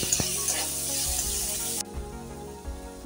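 Mashed potato filling fries in oil with nigella seeds for a vegetarian potato bomb snack. A steady close sizzle hisses and then drops off abruptly, leaving soft stirring knocks and clicks.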